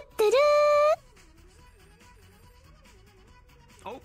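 A telephone rings once, loud and close, a single bright burst with a steady tone. Afterwards comes a quieter stretch of faint background sound and a short voice-like blip at the end.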